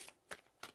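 Three quick riffle shuffles of a tarot card deck, each a short crisp burst of card flutter spaced evenly apart, fairly quiet and close, with no voices.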